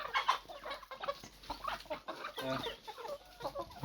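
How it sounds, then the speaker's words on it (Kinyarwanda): Roosters and chickens cluck and murmur on a farm, a faint, busy scatter of short calls close by with no speech. "Iyi ngiyi ni isake"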